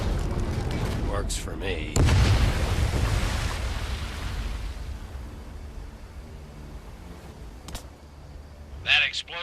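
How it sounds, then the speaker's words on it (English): Explosion in the VR video game Medal of Honor Above & Beyond, a loud deep boom that rolls into a long fading rumble, with someone talking briefly near the start. "That explosion got the attention of all the German patrols in the area."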